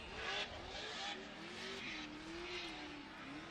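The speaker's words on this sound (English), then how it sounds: "Pat Gooden, gum out, Hankook Tires, S13" Nissan S13 drift car on Hankook tires at a Formula Drift qualifying round in Texas, engine droning steadily at high revs with a rising and falling pitch, tires hissing underneath, heard from a distance over continuous crowd and track noise.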